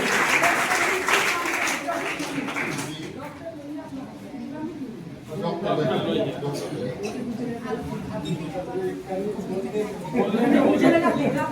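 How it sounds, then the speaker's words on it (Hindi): Audience at a school block-level quiz competition prize ceremony claps, a moderate ragged applause under an announcer's voice speaking over it, swelling again near the end. "जोरदार ताली बजना चाहिए इस बच्ची के लिए"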